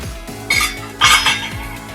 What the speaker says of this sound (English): Now I'll add my prawns.